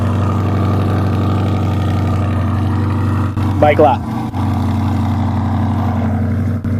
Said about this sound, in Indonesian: Mobil ini sepertinya punya knalpot khusus.